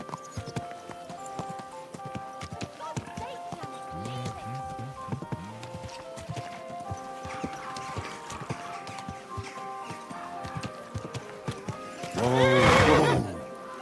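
A horse in the video game Kingdom Come Deliverance 2 clip-clops along with rhythmic hoofbeats, then lets out a loud, close neigh near the end.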